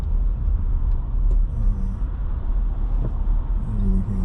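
Steady road traffic on a congested New York City street slowed by construction, a continuous low engine rumble with a faint brake hiss, heard from inside a car.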